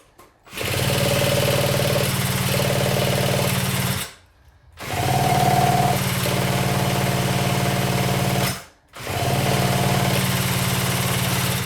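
Kawasaki Trail Boss ATV engine running in three steady, loud stretches, cutting out briefly between them, with a droning low chug and a faint higher whine riding on top.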